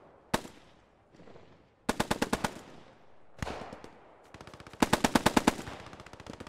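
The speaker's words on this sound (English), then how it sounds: "the MG42 is returning fire through the trees, through the hedgerows" An MG42 machine gun in the video game Post Scriptum returns fire through trees and hedgerows. It sounds as a few sharp single shots alternating with short, rapid bursts, loud and close, separated by quiet gaps.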